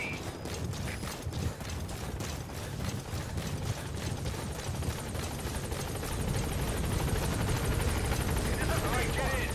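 A helicopter arrives at a landing zone in Metal Gear Solid V, its rotor thumping in a fast steady chop that grows fuller and louder as it nears, with a radio voice briefly speaking over it.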